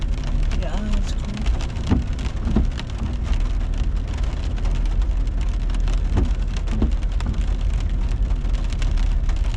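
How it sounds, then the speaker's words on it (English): Steady rain drums on a car during a drive, a dense, continuous patter over low road rumble with a few scattered louder hits. "if you can hear the rain, like, when we're quiet"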